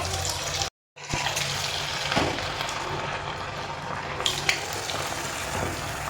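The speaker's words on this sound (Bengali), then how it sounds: "তেল গরম হয়ে গেছে, এখান থেকে একটা একটা করে নেব আর তেলের মধ্যে ছেড়ে দেব।" Chicken pieces hitting hot refined oil in a kadai, a dense, close frying hiss with a brief gap, swelling bursts of bubbling and a few clinks, with no voices.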